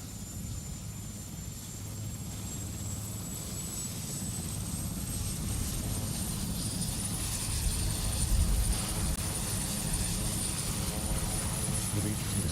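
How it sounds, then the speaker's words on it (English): Helicopter lifting off at a presidential inauguration, a steady loud engine and rotor rumble that swells slightly toward the end, with a high whine above it and voices underneath. "the helicopter's about to lift off"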